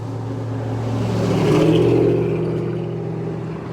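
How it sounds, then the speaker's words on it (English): Road traffic passing by, a low rumbling vehicle swelling to a peak near the middle then fading away, steady engine drone in the background. "sorry for the traffic sounds"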